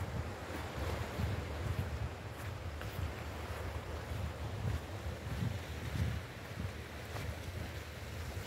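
Ocean waves wash continuously onto Mouille Point Beach in Cape Town on a December day, a steady broadband surf roar with wind buffeting the microphone and no voices.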